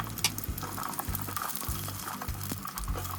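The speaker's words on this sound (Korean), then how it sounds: "냄비에 올리브 오일을 두르고 마늘을 중약불로 볶아주세요." Garlic frying in olive oil in a pot over medium-low heat, with a steady close sizzle and crackle and the scrape and clatter of stirring running throughout.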